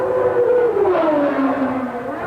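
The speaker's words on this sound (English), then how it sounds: "Look at Bailey trying to come out of the slipstream of Hakkinen." Formula 1 cars race at the 1991 San Marino Grand Prix: a loud, high engine whine sweeps and drops in pitch as a car passes close, with no speech.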